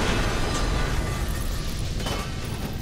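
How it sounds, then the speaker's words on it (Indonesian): A sustained, loud explosion roar in Grand Theft Auto 5, dense low rumble and crackle filling the whole stretch with no pause. "Meledak."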